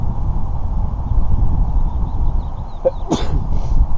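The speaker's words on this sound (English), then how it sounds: "why I've been sneezing out of control" A single abrupt sneeze bursts out over steady rumbling background noise, with a faint high chirping in the distance.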